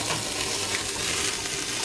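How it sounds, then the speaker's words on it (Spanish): Sirloin and boletus mushrooms sauté in a pan as cognac is added, giving a close, continuous hissing sizzle with no pauses. "Los rehogamos. Echamos el coñac."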